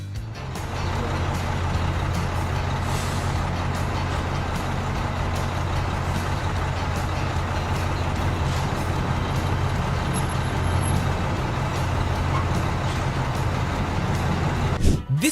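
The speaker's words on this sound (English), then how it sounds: "Cement trucks come with an ingenious defense mechanism against drivers who don't check before they turn." A heavy cement truck's diesel engine rumbles loud and close in a steady, unbroken drone for the whole stretch, with a sharp knock or jolt right at the end.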